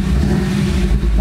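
A restored 1956 Ford F100 pickup engine idling, a steady low rumble that is loud and close and runs evenly throughout, with no talk.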